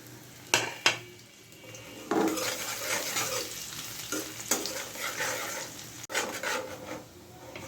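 Bay leaf, cinnamon and chopped garlic fry in oil in a pan for a potato curry, a continuous sizzle punctuated by several clinks and scrapes of a spatula stirring against the metal, close and fairly loud with no talking.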